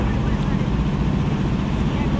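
A boat engine drones in a steady, unbroken low rumble throughout on the Titas River, with faint voices mixed into the noise.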